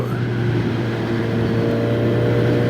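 QJ Motor SRK 421 RR four-cylinder motorcycle on the road, a loud steady engine drone with a constant low hum and slowly rising tone, heard close and without talk.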